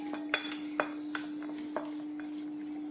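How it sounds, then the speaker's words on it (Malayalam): Metal spoon clinking against a bowl while peanuts are mixed with an egg coating, a few sharp scattered taps over a steady faint hum, close and quiet. "ഇതുപോലെ നമുക്ക് നല്ല ശരിക്ക് സ്പൂൺ കൊണ്ട് തന്നെ ഒന്ന് മിക്സ് ചെയ്തെടുക്കാം മൊത്തം"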